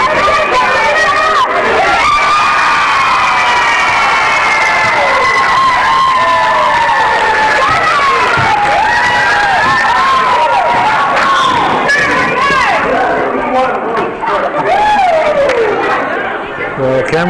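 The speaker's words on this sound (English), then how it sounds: "Cameron Foley gets the crowd all excited" A basketball crowd at a boys' grade 5 and 6 game erupts after a play. Loud, continuous cheering, shouting and excited chatter fill the gym from start to finish, with children's voices yelling over the din.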